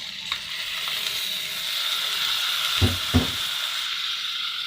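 Rice and vermicelli fry in a pot with a close, steady hiss, and two sharp scraping stirs land near the middle.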